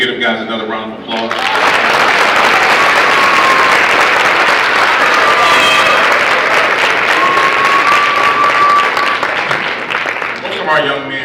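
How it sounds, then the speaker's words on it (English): Loud, sustained graduation audience applause, a thick roar of many hands clapping close by for about ten seconds, with a voice speaking briefly before it starts and again as it fades. "Can we give them guys another round of applause?"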